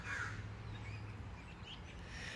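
Crows caw faintly in the distance, a few scattered calls over a low steady background hum, with no voices.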